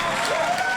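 A pro wrestling crowd at Inspire Pro Wrestling applauds in a brief, dense wash of clapping and crowd noise, with a commentator's voice faintly under it.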